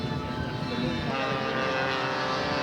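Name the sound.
scale model aircraft flying at air show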